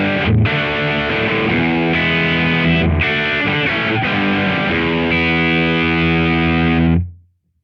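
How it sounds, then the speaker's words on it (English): Heavily distorted electric guitar plays through a Kemper liquid profile of an amp, with sustained chords and brief breaks between strums, loud and upfront, cutting off abruptly at the end. "So this is a liquid profile of the amp before I've done anything to it."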